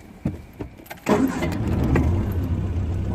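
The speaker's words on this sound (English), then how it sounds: "start the engine" A few clicks of the starter, then a Triumph Spitfire 1500 sports car engine fires up loudly and settles into a rumbling idle close by.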